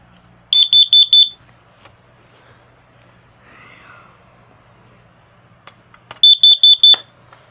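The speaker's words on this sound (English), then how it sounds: "Here is my Kidda KN-COB LP2 carbon monoxide alarm." Kidde KN-COB LP2 carbon monoxide alarm under test, giving two loud, close bursts of four rapid shrill beeps each, separated by several seconds of near-quiet with faint handling noises.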